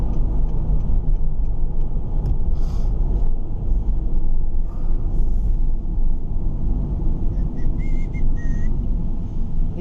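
Car driving at steady speed and turning around on a snowy road near Brussels, a continuous loud road rumble and engine drone with faint whistling tones near the end, no talking.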